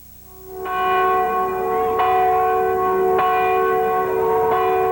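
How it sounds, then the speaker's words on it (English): Church bells ringing loudly and steadily, with repeated strikes layered into a rich, sustained chime that fills the whole stretch without any voices. "Church bells rang out today"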